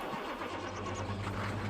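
A truck engine in Farming Simulator 22 turns over and settles into a steady low rumble, close and continuous for a short moment.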